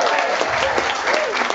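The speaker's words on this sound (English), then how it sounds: "Give Elana a big round of applause if you want." A short burst of clapping from a small audience at a charity night Elvis tribute show, steady and fairly close throughout.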